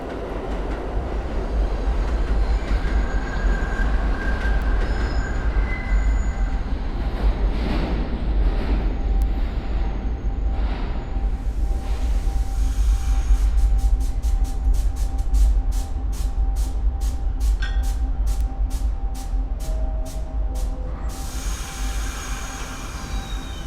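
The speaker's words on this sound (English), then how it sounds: "This is a Dispatch Boulevard bound Amtrak train." An Amtrak passenger train passes with a steady roar, then a quick run of rhythmic wheel clicks over rail joints before it fades, with no talking.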